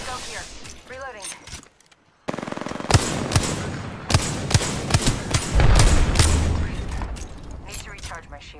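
Rapid video-game gunfire with sharp repeated shots and bursts after a brief silent gap, mixed with thuds and a voice talking over the action.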